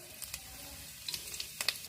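A bay leaf and whole cumin seeds fry in hot oil for a vegetable biryani, crackling quietly with a handful of sharp pops and spits over a low, continuous sizzle.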